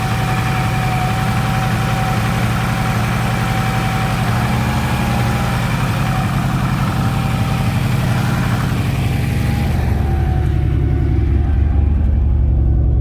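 Turbocharged Lexus SC300 making roughly 500 wheel horsepower, idling steadily after a cold start, a loud continuous rumble with a thin whine on top that thins out near the end.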